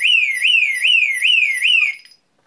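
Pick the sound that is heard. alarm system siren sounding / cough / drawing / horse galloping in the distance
alarm system siren sounding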